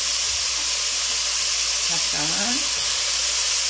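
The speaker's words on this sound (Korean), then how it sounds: "자잘하게 썰어놓은 거를 여기다 이렇게 볶고 주는 건데요." Chopped carrot, mushroom, celery, onion and broccoli stir-fry in a hot pan for turkey stuffing, giving a steady close sizzling hiss, while a voice speaks a single brief word over it.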